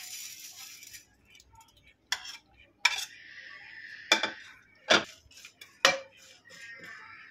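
Dry red chillies and whole spices rattle and scrape in a pan as they dry-roast, with sharp metallic clinks from a spoon at intervals over a faint hiss, nearby and fairly quiet.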